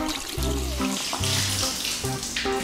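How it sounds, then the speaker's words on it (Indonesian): Tap water runs steadily into a sink while hands are rinsed in the final step of handwashing, a continuous close splashing hiss with small shifts as the hands move under the stream. "Abis itu bersihkan pakai air mengalir."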